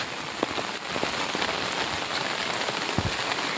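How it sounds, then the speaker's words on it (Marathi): Steady rain patters on surfaces during a walk outdoors, a dense, even hiss with scattered louder drops close by, and no voices. "चालू झालेला आहे पाऊस."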